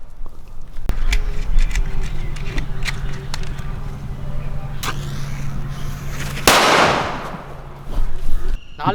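Several sharp pops and crackles from a small Valangaiman country-made firecracker, a 4-inch elephant cracker, followed by a loud hissing burst near the end, with faint background noise between.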